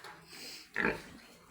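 Pigs in a farm pen give a short burst of grunting and snorting near the middle, close by and moderately loud over quiet background rustle.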